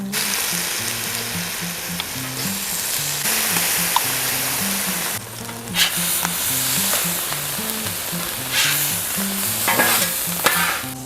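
Food cooking slowly in a little oil on a hot Blackstone flat-top griddle, with jalapeños among the ingredients, gives a steady sizzle and frying hiss, under background music, with no talk.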